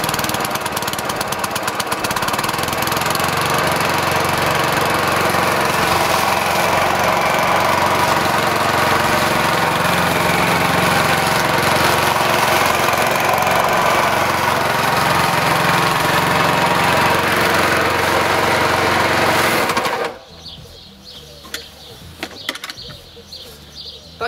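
A Tecumseh engine in a SABO lawn mower, restarted after three years of standing unused, runs loudly and steadily for about twenty seconds before cutting out abruptly, leaving only faint clunks and rattles.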